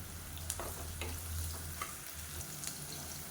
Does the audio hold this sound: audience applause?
no